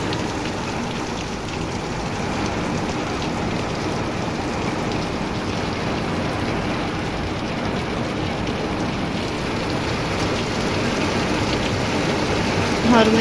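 Steady rain pattering on a surface, a constant broad hiss that holds evenly throughout.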